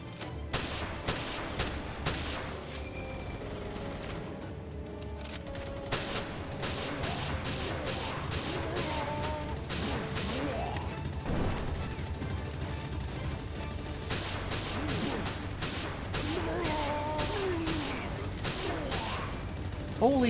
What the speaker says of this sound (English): So tired of shooting that guy